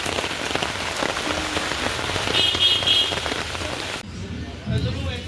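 Heavy rain pours down in a dense, loud, continuous hiss of drops hitting surfaces, with the texture shifting and thinning a little near the end.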